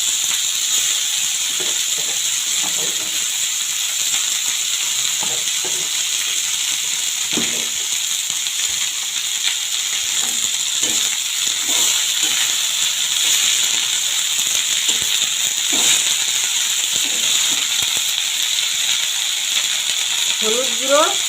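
Fenugreek greens go into a hot pan and give a steady, bright sizzling hiss that runs throughout, with faint clatters and stirring knocks underneath.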